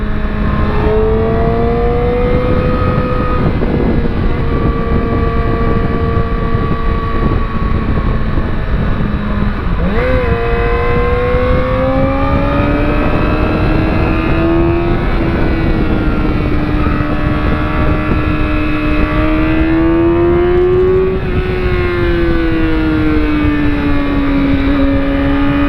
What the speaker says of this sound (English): Quite a few cars today.